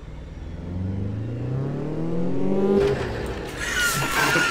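A video game car's engine revs hard toward its maximum RPM limit, the rising drone climbing steadily in pitch, then breaking into harsher, noisier roaring near the top, loud and close with no talk.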